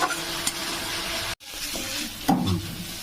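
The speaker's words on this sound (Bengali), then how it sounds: "এবার আমি সব রকম দিয়ে একটু কষিয়ে নেব মশলাটা।" Spice masala fries in oil for a spicy sea crab curry, giving a steady, loud sizzle while a utensil stirs the pan, with a short break and a scraping clatter near the end.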